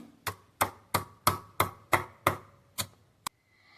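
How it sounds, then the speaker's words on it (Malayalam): Roasted small shallots crushed by hand, about nine sharp, evenly spaced pounding knocks with a final lighter tap, close and clear with no talking. "നമ്മുടെ ചെറിയ ഉള്ളി നന്നായിട്ട് ചതച്ചെടുത്തിട്ടുണ്ട്"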